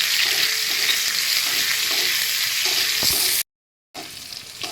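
Onions sizzle steadily in hot oil with cloves, bay leaf and sugar, a continuous bright frying hiss with faint stirring scrapes, cutting out briefly near the end before resuming.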